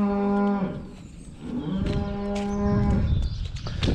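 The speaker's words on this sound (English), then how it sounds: "That cattle are very vocal this morning." Farm cattle waiting for barley in the morning, several loud, drawn-out moos close by, overlapping one another with a low bellow trailing at the end.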